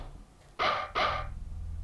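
A dog in the video game Unepic barks twice in quick succession, loud and close, with short sharp yaps over a low background hum.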